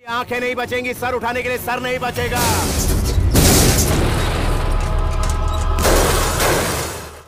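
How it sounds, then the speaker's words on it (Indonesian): A voice speaks in Indonesian before cars explode in a massive booming blast, followed by a sustained roaring rumble and debris-like crackle that slowly fades. "tapi tiba-tiba beberapa mobil anak buah Bar meledak"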